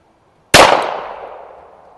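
A single sharp, loud report from a 1922 Colt 1911 .45 ACP pistol firing steel case ammo at a range, followed by a ringing decay that fades over more than a second after silence.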